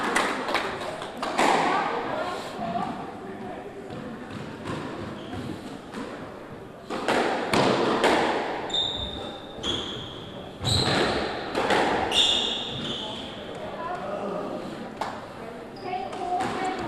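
A squash ball is struck and bounces off the walls during a men's veterans final match, giving sharp, irregular thuds and taps spread through a rally, with squeaking shoes and people talking between the hits.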